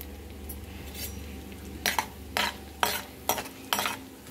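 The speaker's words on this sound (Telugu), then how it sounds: "చక్క తాలింపు గింజలు మంచిగా వేగాలండి, వేగితేనే బాగుంటాయి." Tempering seeds fry in hot oil for an amaranth-leaf and moong dal stir-fry, a steady low sizzle broken by about five sharp spoon-stirring scrapes and clinks against the pan, close and with no talking.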